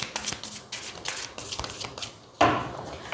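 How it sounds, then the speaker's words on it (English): Tarot cards are shuffled in repeated quick riffling bursts, close and crisp, followed by a sharper single slap as a card is drawn or set down, with no talking. "let's pull out some more cards"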